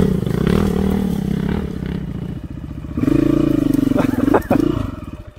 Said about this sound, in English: Roll a throttle. Drop a clutch. Be one with the bike.